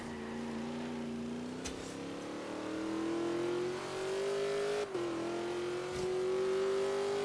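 A car engine in the Forza Horizon 3 racing game revs and climbs steadily in pitch while pulling away in fourth gear. The drone is loud and sustained, with a brief dip near the middle, and nobody talks.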